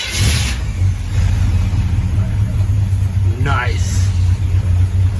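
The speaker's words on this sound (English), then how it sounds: "Look how easy that engine starts." A 1967 Pontiac Firebird V8 idling with a heavy low rumble, briefly revved in a rising sweep near the middle, close and loud, while people talk over the engine.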